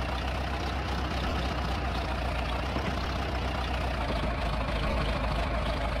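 Tractor engine idling steadily on a muddy farm field, a continuous low rumble that stays even and fairly loud throughout with no breaks.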